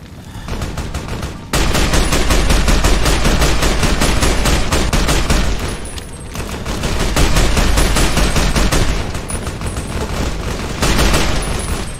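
A gun in Fallout New Vegas fires long, sustained bursts of rapid automatic shots, loud and close. There is a short pause midway and a brief dip near the end before the firing resumes.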